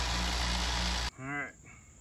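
A vibratory rock tumbler loaded with rocks and garlic runs with a dense, loud, steady rumbling hiss for about a second, then cuts off abruptly and a voice speaks.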